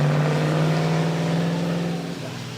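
A 4.5 litre vintage Bentley at a hill climb, its engine a steady loud drone with a strong low hum that holds for a couple of seconds, then eases off slightly near the end.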